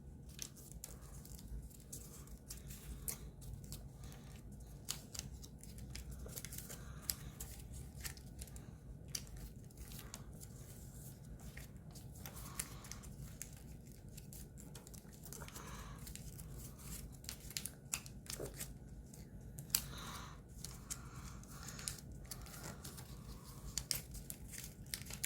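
Paper being creased and folded by hand for an origami ninja spinning top, a long series of quiet close crinkles, scrapes and sharp creasing snaps with no voices.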